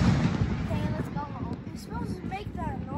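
Fourth of July fireworks bursting in a steady, rumbling barrage of loud, overlapping booms that fill the whole stretch, with people talking and calling out over the blasts.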